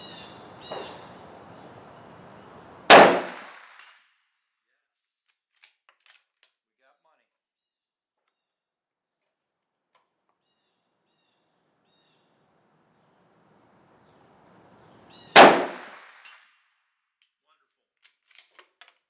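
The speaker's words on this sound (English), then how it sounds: "let's go ahead and put 2 more rounds down range at 200 yards" A Mossberg Patriot in .450 Bushmaster fires two sharp, loud rifle shots at a range, aimed at 200 yards. About twelve seconds of near silence separates the two cracks, and each one echoes briefly.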